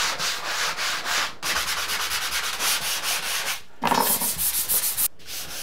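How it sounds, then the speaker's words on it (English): Drywall compound over screw holes in a stairwell renovation is hand-sanded in steady scratchy back-and-forth strokes, loud and close, broken by three brief pauses, with no talking. "I can sand the rest."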